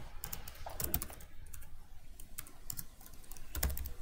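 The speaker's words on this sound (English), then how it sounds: "Like just typing out all this is the tedious piece here, right?" Computer keyboard typing in quiet, irregular clusters of light key clicks, steady and faint, close to the microphone with no talking over it.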